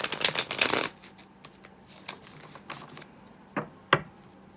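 Tarot cards from a Cosmic Slumber Tarot deck are shuffled in a quick close riffle, followed by scattered soft taps and slides of cards being handled, then two sharper clicks near the end.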